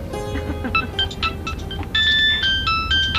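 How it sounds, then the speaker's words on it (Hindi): A mobile phone rings with an incoming call in a home setting, a bright repeating electronic melody of short tones that grows louder partway through, over low room noise. "मेरे ऑफिस से फोन आ रहा है।"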